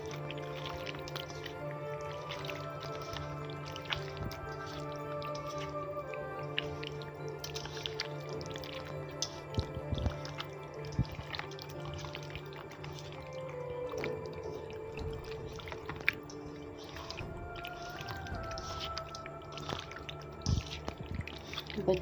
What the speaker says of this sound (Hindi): अब आप इसको अच्छी तरह हाथ की मदद से मिक्स कर सकते हैं कि तमाम मसाला